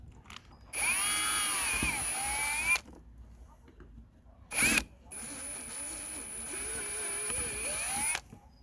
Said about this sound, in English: So I'll just have to drill through the rubber pad too